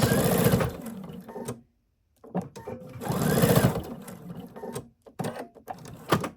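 A sewing machine stitches a minky and fleece blanket in loud, close bursts of rapid whirring, stopping briefly between runs for back stitching.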